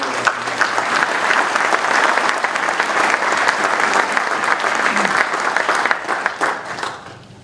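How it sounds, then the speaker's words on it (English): Sustained audience applause at a gathering, loud and dense clapping filling the room throughout, then tapering off near the end. "A loud round of applause, please, to the people that are"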